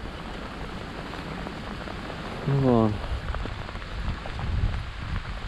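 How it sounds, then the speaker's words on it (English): Steady rain pattering on surfaces outdoors during a city-centre feeder fishing session for bream, a constant soft hiss throughout, with a brief voice speaking over it midway. "Nice to see a bit of rain, to be fair."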